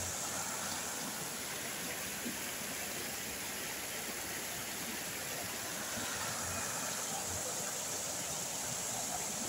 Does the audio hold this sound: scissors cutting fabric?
no